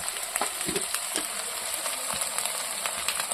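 Mutton keema frying in a pan, a steady close hiss and sizzle with occasional soft scrapes or pops, continuous throughout with no talking.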